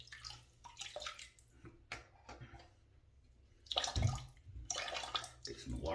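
Tap water runs in short bursts for wetting shaving soap ahead of a Gillette Slim razor shave, faint at first, then louder splashing gushes near the end with small knocks in between.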